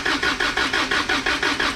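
A Toyota engine cranks over during a compression test, giving a rapid, even chug of starter pulses with no catch, close and loud.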